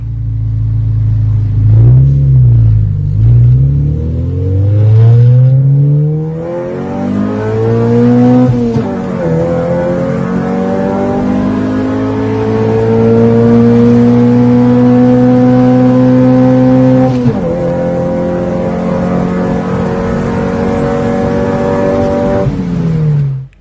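A 1996 Honda Civic EK with a D15B7 VTEC engine revs hard and climbs steadily through third gear to 8,000 rpm, pitch rising over many seconds with a brief dip at a shift, loud and close.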